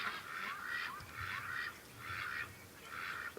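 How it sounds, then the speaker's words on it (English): Ducks in a pen squawk in alarm, with four bursts of loud, harsh honking calls in quick succession, close by and alone, separated by brief pauses. "The ducks in the pen just freaked out."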